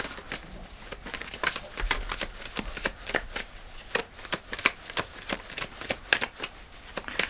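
Tarot cards are shuffled close by in a quick run of crisp riffling bursts and soft flutters, repeating steadily with no speech over them.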